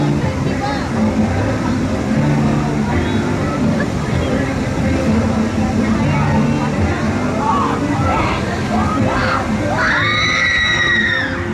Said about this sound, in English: Those screams, yes, I know.